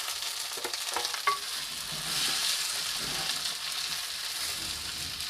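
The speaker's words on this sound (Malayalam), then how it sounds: "ശേഷം ഈ ഉള്ളി ഇടാം പുളിയും കൂടെയും ഇടാം കേട്ടോ" Onion and tamarind frying and being stirred in a pan for a stingray fish curry, a steady close sizzle with soft scraping stirs, no talking.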